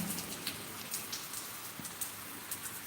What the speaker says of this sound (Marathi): रिमझिम रिमझिम पाऊस पडत आहे